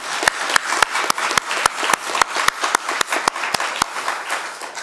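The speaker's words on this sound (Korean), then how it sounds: "우리 하나님께 영광의 박수 드리겠습니다." A church congregation at a Korean service in Toronto claps together in a steady, even rhythm, each sharp beat landing in unison over a continuous wash of crowd clapping.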